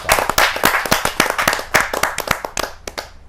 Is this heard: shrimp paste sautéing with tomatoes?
no